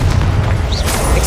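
Confringo spell explosion in Hogwarts Legacy video game, a loud, close booming blast with a sustained roar filling the whole short moment.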